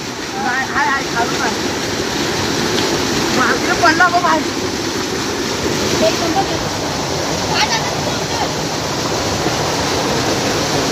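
A waterfall pours in a heavy monsoon downpour near Chiplun, Ratnagiri, making a steady, dense roar of rushing water that fills the whole stretch without letting up.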